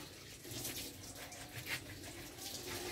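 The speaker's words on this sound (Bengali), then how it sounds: "আর এই ঠান্ডায় অর্ঘ্যদীপের বাবা এখন জল তুলছে।" Water is drawn and poured on a cold winter morning, a steady faint gushing and splashing that runs continuously with no talk.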